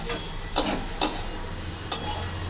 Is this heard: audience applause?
no